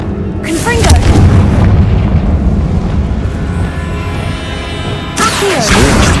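A Confringo fire spell explodes in the Hogwarts Legacy video game, a loud booming blast with crashing debris that swells early and then rumbles on, with a second burst near the end.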